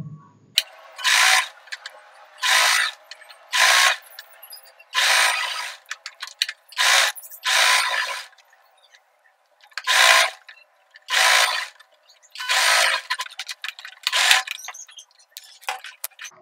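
A sewing machine stitches a collar onto the round neckline of a short kurti, running in about a dozen quick mechanical bursts separated by short pauses, close and fairly loud with no talking.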